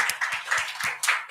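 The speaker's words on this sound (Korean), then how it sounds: "하나님께 우선 먼저 감사의 박수 올려드렸다" A church congregation claps in thanks, a fairly steady run of about five distinct clap bursts, moderately loud and close, with no speech over it.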